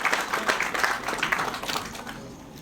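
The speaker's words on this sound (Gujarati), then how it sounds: "આપણે જોરદાર તાળીઓના ગગડાટથી વધાવીએ." An audience claps at a civic inauguration ceremony in Bhavnagar, a short burst of dense, moderately loud applause that tapers off toward the end.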